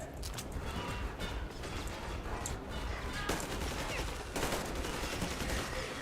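Sustained gunfire during a fight in the video game Metro Exodus, a continuous crackle of rapid shots at moderate volume with a few sharper bursts standing out.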